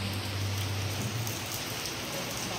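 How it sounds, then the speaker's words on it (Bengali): Heavy rain falls outside during a downpour, a dense, steady roar of drops on surfaces close by with no pauses and no voices. "বাবা কি জোরে জোরে বৃষ্টি পড়ছে"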